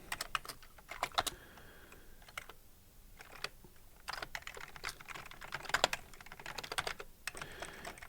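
Clacky typing on an Amiga 1200 keyboard in quick irregular bursts, keys tapping close to the microphone with short pauses between runs, no voices.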